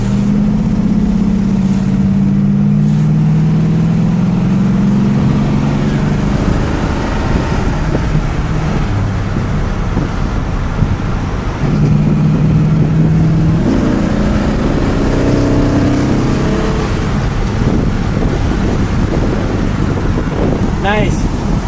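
A black 1964 Chrysler 300K coupe, a survivor car with a NASCAR-inspired motor, runs steadily with a deep, continuous rumble whose pitch rises and falls as it revs, close and loud with wind buffeting throughout.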